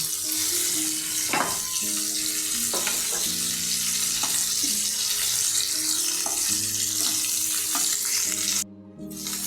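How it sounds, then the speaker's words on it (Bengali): Dried fish fried briefly in hot oil for a Bengali sukna macher jhol, giving a steady close sizzle with repeated spatula scrapes and clinks against the pan throughout, then a sudden drop near the end. "এই যে শুকনো মাছগুলিকে জাস্ট এপিট এপিট একটু ভেজে উঠিয়ে নেব"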